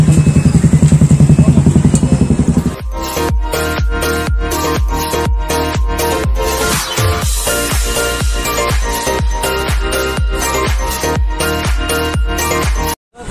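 Motorcycle engine running while riding on the road during Durga Puja outings, a loud steady drone close up with rapid rhythmic pulsing and a brief drop at the end.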